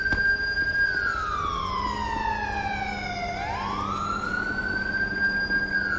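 An ambulance siren in Grand Theft Auto V wails steadily, its pitch sweeping slowly down and back up, loud and close with a faint rumble beneath.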